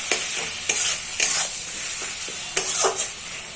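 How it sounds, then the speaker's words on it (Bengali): Mushroom masala with garam masala and slit green chilies being sautéed, a bright, constant sizzle punctuated by several quick spatula scrapes and knocks against the pan, close and loud with no voices. "তারপরে দেব চেরা 4টে কাঁচা লঙ্কা দিয়ে এইগুলো আমি ভালো করে কষিয়ে নেব।"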